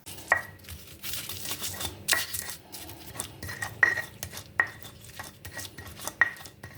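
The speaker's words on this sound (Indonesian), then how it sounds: "Kali ini aku menghaluskan bumbunya diulek manual seperti ini karena hanya menghaluskan bumbunya sedikit." Spices for beef soup are pounded and ground by hand in a mortar and pestle, giving sharp clacking knocks at irregular intervals with scraping rubs between, close and fairly loud.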